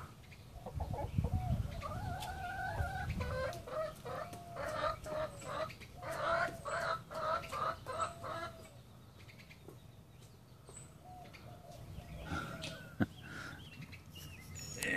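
An Americana hen clucks and squawks in a nesting box, with repeated rhythmic calls that build to a run of loud cackles and then trail off, plus rustling and other farm birds around.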